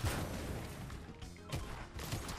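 A few sharp gunshot bursts in Fortnite ring out in quick succession, loud and close, over a dense background of game noise.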